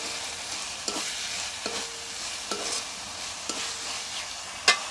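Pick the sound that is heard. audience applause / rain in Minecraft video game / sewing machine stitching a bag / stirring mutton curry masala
stirring mutton curry masala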